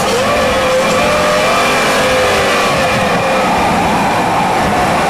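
A Ford Mustang SM17 by Herrod Performance, a 775 horsepower car, roars loudly and continuously as the engine rises in pitch under acceleration. The engine fills the whole clip with no voices.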